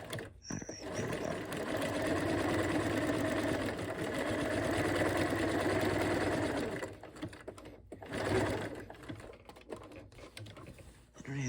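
Close up, a sewing machine runs a long, even stretch of decorative stitches across fabric hexagons, then stops and gives a few short follow-up bursts among small clicks and handling noises.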